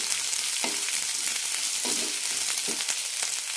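Sliced shallots sauté in hot oil in a pan with a steady close sizzle, broken by a few brief stirring scrapes and no talking.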